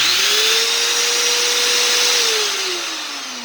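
A Hammerhead plunge router running at its highest speed setting, a loud steady high whine held for a few seconds and then beginning to wind down.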